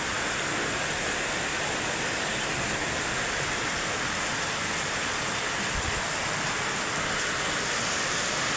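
Heavy rain pours down steadily, a dense, loud, unbroken roar of water throughout with no voices.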